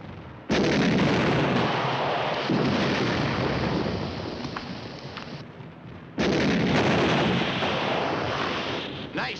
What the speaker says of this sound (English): Fire two rounds of HE in them.